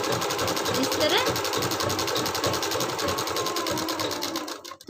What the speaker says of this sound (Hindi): इधर तरफ सीधी सिलाई लगाते जाना है इस तरह